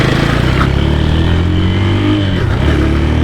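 A 2007 Honda FTR 223 motorcycle accelerating up to speed on a road, a loud close engine drone with the pitch rising steadily and a brief shift partway through.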